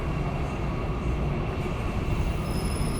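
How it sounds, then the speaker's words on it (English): A Chicago Purple Line elevated train rolling into a station, a steady loud rumble of wheels on rails with high metallic squeal tones emerging near the end, no voices. "Oh, and here's the purple line train."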